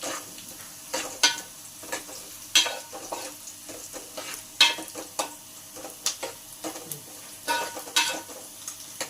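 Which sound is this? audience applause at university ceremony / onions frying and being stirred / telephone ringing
onions frying and being stirred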